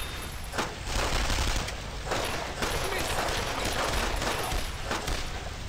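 Gunfire from shooting enemies in the Wii game Brothers In Arms: Road To Hill 30 pops in a steady string of shots while a person talks over it.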